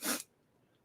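A single short, sharp human sneeze bursts out close and loud, then quiet follows.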